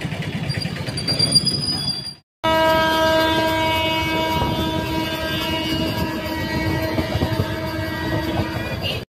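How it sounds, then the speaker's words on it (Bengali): A train at Asansol station sounds a loud, sustained horn after a short gap, over a steady rumble of rail noise and a few clanks. "আমরা এখন ট্রেনে চেপে গেছি।"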